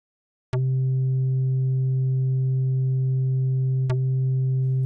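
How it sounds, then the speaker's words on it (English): A synthesizer square wave with filter modulation enters after half a second as a sustained, steady buzzy tone. Two sharp clicks punctuate it, one at the start and one near four seconds. "It sounds kind of like square wave with filter modulation on it, as you would in a lot of these synthesizers."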